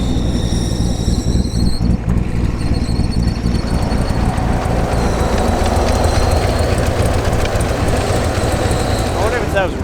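A Z06 Corvette, just back in from drifting, gives off a sustained metallic squeal and whine over a low rumbling idle, continuous and fairly loud. Near the end a voice speaks briefly.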